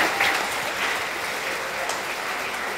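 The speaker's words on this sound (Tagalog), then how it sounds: "Bigyan po natin siya ng isang masigabong palakpakan. Malakas sa palakpak." Applause from a church congregation at a thanksgiving mass for a priest's 25th ordination anniversary, a steady wash of clapping that holds evenly throughout without any voices.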